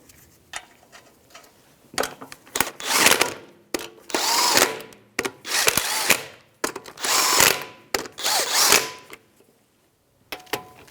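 A power tool with a 19mm socket spins Jeep Compass lug nuts in repeated loud bursts, about eight in a row separated by short pauses, each whirring up sharply and stopping.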